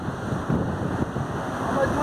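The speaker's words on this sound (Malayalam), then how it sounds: "നല്ല കാറ്റ്." Strong wind at the top of the lighthouse at Kovalam beach roars steadily and buffets the microphone in a loud, continuous rush for the whole stretch.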